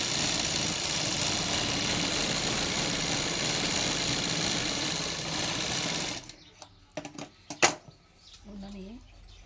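Sewing machine stitching a baby frock: a fast, steady, loud mechanical whir that runs for about six seconds, then stops and is followed by fabric handling and a few clicks.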